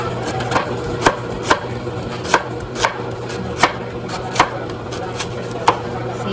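Sweet potatoes being chopped on a board for chicken stew, a steady run of about ten crisp knife knocks spaced roughly half a second apart, close and clear over a faint background hum.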